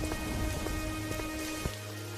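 Heavy, steady cold-season rain pours down in a dense hiss, with scattered louder drops striking a surface close by; no voices.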